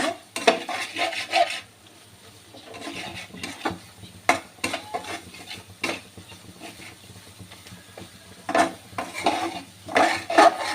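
Spice masala of chili, coriander, ginger and cumin powder with salt is stir-fried in oil in a pan, bursts of metal scraping and clatter alternating with quieter stretches over a low sizzle, no voices.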